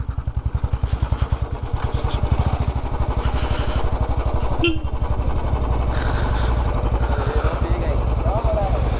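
A motorcycle engine putters steadily on a morning ride to Kakani, a constant rhythmic throb up close with wind noise and occasional voices underneath.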